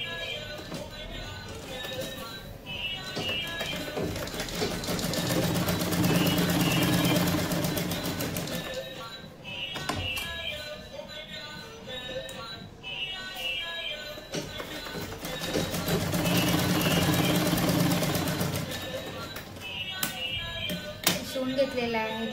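A sewing machine stitches a 34-inch katori blouse in two long running bursts of rapid mechanical whirring and clatter, separated by a pause, while someone talks over and between them.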